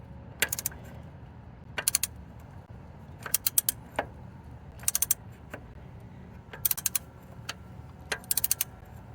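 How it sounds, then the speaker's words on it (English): A ratchet wrench loosens a timing chain bolt on a GM Ecotec engine, producing clusters of sharp metallic clicks in short bursts with pauses between them, close and crisp over a low, steady hum. "So while you're loosening the bolt"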